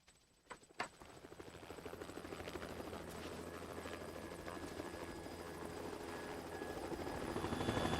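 A helicopter in Metal Gear Solid 2 on PS2 beats steadily, its rotor drone rising and growing louder over several seconds after a couple of sharp clicks at the start.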